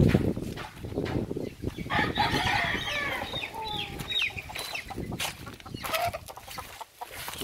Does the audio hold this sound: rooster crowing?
yes